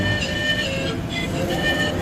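Early-morning atmosphere at Hua Lamphong railway station with a train present, a low continuous rumble of railway machinery and faint tonal whines in a large hall, steady and moderately loud.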